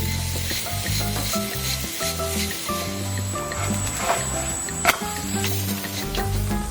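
Bread spread with mayonnaise and topped with chili pepper sizzles and fries in a pan, a constant crackling hiss with faint scraping and a few small pops, heard without any voices.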